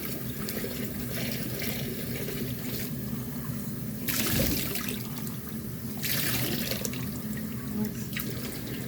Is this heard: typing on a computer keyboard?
no